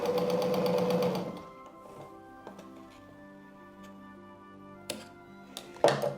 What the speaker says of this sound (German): Und wir nähen durch. Wir nähen alle rechten Dreiecke an.